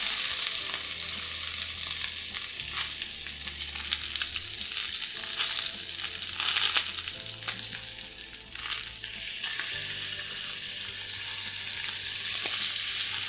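Venison frying in a hot pan, giving a loud, continuous close-up sizzle and crackle with slight surges, and no voices.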